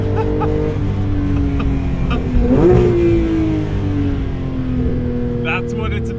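The flat-six engine of a 2022 Porsche 992 GT3 Touring with a manual gearbox revs toward 9,000 RPM, a loud, rising howl heard from inside the car, with a shift-like dip midway and a voice briefly over it.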